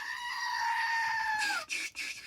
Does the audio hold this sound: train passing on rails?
no